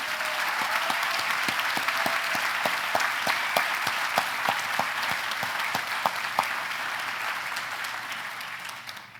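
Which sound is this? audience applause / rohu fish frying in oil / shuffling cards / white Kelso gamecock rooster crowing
audience applause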